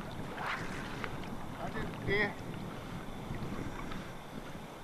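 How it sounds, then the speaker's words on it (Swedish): Wind blows steadily outdoors by the water, a continuous rushing buffet against the microphone with a faint voice briefly under it. "Nu blåser vinden in från det hållet."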